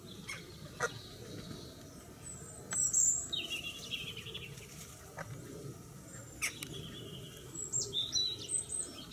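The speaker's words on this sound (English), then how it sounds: "Pretty bird." Small bird at Exmoor Zoo gives thin, high chirps and tweets in scattered short bursts over a faint background of rustling and clicks, moderately close and with no talking.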